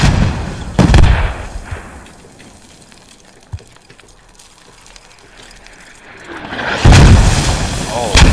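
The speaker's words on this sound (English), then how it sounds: "Those mortars are on point." Mortar shells land in a military video game battle on the Kokan map: two heavy booming impacts, one at the start and one near the end, with a quieter stretch of distant rumble between them.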